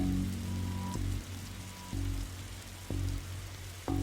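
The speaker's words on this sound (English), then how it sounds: "Whenever standing in the rain stops being fun for you." Rain in The Darkside Detective video game falls as a steady patter over a low ambient hum, with a soft tonal pulse repeating about once a second.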